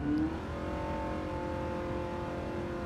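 A car engine held near 5000 rpm during an acceleration test, one of a Ferrari 458 Italia, Ford GT or Mercedes SLS AMG, gives a steady, sustained drone with a slight pitch rise, loud and continuous throughout.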